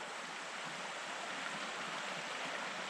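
A mountain river flows beside a clearing where mushrooms grow, giving a continuous, even rush of water that sounds close and fills the whole stretch without a voice.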